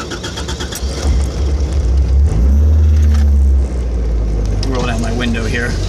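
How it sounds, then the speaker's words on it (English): Toyota AE86 engine idling, then revving up loudly for about a second before settling back to a steady, close, mid-pitched idle rumble. "So, small drive, just listen to the engine,"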